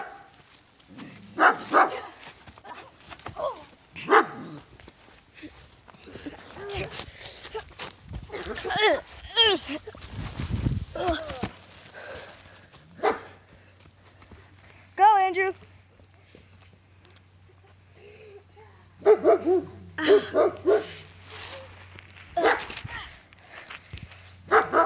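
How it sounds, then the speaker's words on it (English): A dog barks in repeated bursts, close and loud at times, mixed in with people talking and shouting at it to stop during a tense confrontation, with footsteps and movement around. "Shut up, you stupid dog."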